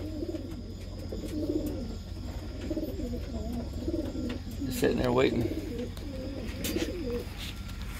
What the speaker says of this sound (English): Again, birds.